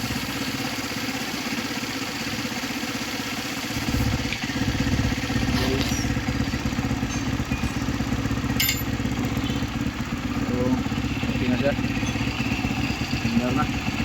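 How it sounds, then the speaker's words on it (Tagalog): A Rusi Flash 150X motorcycle engine idles steadily with its cooling fan running, a continuous mid-level mechanical drone with light clatter, while someone talks over it throughout. "Okay, so function na yung cooling fan guys. Andar na siya."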